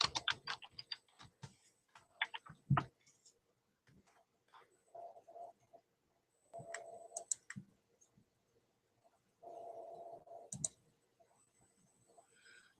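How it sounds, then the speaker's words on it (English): Rapid, close keyboard typing in uneven bursts of clicks and taps, with short pauses and a few brief faint murmurs between. "my typing here is really loud"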